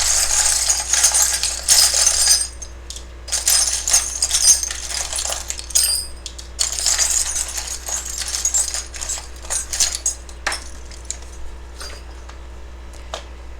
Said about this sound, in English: I just shuffle, shuffle, shuffle until I feel like it's time to take out 1, 2, 3, 4, however many handfuls I feel like is needed.